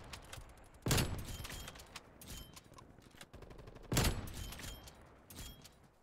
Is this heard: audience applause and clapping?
no